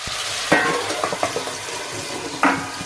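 A vegetable with amchur and mixed spices sizzling in a pan while a spoon stirs it, sending out a few scraping clatters over the steady frying hiss, close and fairly loud.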